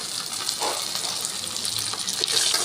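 Ginger-garlic paste sizzles and fries in hot oil in a pan for a Rajma curry, a steady close crackling hiss with no talking.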